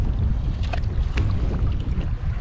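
Strong wind roars steadily across a small fishing boat in rough weather with whitecaps, a close, loud buffeting with broadband rumble and no talk.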